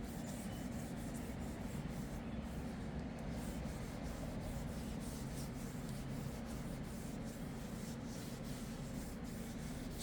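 A wooden hammer handle is rubbed with motor oil by hand, giving a continuous soft, close scrubbing friction that stays even and steady throughout.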